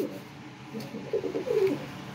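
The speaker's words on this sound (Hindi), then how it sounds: "इसके बाद ये कबूतर बोल रहा है," A pigeon coos close by, a few soft low throaty notes rising into a short rolling call over quiet background noise.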